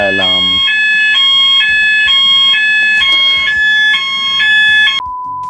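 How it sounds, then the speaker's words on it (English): Workplace fire alarm sounding loud and near, a repeating electronic tone pulsing about twice a second before a steady held tone at the end. "So that was a fire alarm."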